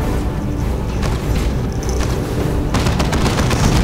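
Gunfire and explosions from Dawn of War 2 Retribution multiplayer battle rumble as a dense, continuous wash of booms and rattling shots, loud and unbroken, with a sharper burst of crackling fire near the end.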